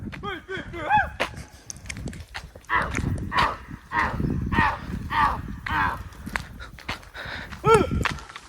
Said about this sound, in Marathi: आखी म्हशी येत इकडे आता.